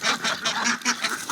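A flock of Agidel ducks quacks steadily nearby, with repeated overlapping honking calls rising and falling in a rough rhythm and nothing else heard.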